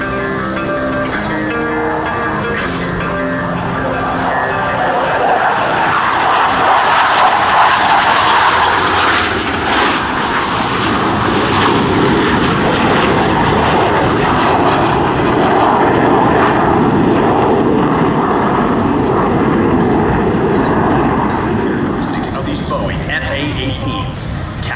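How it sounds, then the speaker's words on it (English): Blue Angels jet aircraft roar continuously through an airshow demo at Sioux Falls in 2012, with landing gear and tailhooks lowered for a carrier landing configuration pass; the loud, broad engine noise swells and lingers while an announcer talks over it. "both aircraft are in the carrier landing configuration as they approach for a maneuver"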